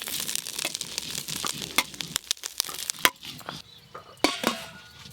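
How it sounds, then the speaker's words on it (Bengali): Eggs frying in mustard oil in a pan, a steady close sizzle broken by sharp clinks and scrapes of a spatula stirring against the metal. "ডিমগুলোও বেশ ভালো করে ভাজা ভাজা হয়ে গেছে"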